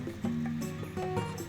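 A horse in the survival game Rust snorting and whinnying with soft hoof clops, close and fairly quiet, a short burst of animal vocal sounds without talk.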